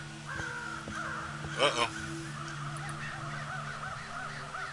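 Crows caw in the Night of the Rabbit video game, a short cluster of harsh caws over steady game tones. A voice briefly speaks just before.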